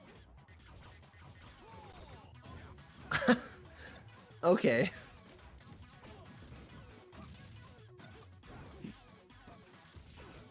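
Two sharp smash impacts from forward smash attacks land in a Super Smash Bros. match, Falco and Fox against Ike, with a commentator talking quietly underneath.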